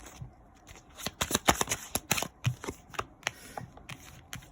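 Tarot cards being shuffled by hand, a quick series of crisp riffling slaps and flicks close up in a quiet room, with no talk.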